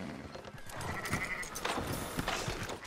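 Sheep bleat repeatedly in Red Dead Redemption 2 on PS4 Pro, several overlapping calls over a steady outdoor ambience, fairly close and moderately loud with no talk.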